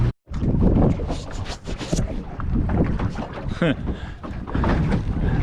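A strong easterly wind blowing outdoors on the water in Perth, Australia, roaring loudly and steadily against the microphone with gusting buffets, a brief dropout near the start and faint voice sounds mixed in.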